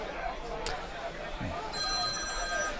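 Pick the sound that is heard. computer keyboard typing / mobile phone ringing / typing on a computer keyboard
mobile phone ringing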